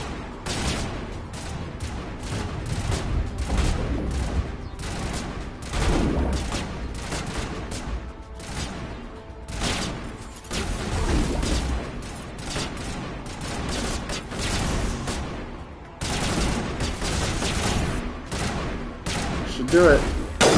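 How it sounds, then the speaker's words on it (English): Gunfire from the video game Mass Effect Legendary Edition on PS5 rolls on without pause, with dense bursts of rapid shots and booming blasts layered thickly throughout. "I don't see the enemy that they're shooting at."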